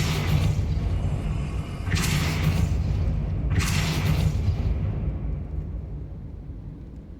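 Depulso spell cast in the Hogwarts Legacy video game: sustained rumbling bursts with sharp whooshing onsets, two strong blasts a couple of seconds apart over a continuous roar that fades out toward the end.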